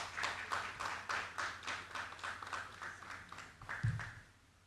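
An audience at a business panel discussion on jobs and investor confidence claps for an investment banking head, a faint, thin patter of separate hand claps that tapers off near the end.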